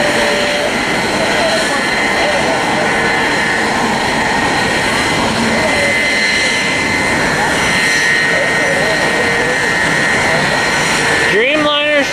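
A jet airliner roars steadily on the runway at Fort Lauderdale airport, loud and sustained, with voices talking now and then over it and a short rising whine near the end.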